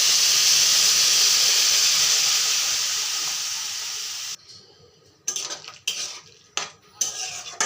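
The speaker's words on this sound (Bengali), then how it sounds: "আধা গ্লাসের মতন জল দিয়ে দেব।" Water poured into a hot pan of frying spices bursts into a loud, close hiss of steam that slowly fades over about four seconds, followed by several sharp scrapes and clinks of a utensil against the pan.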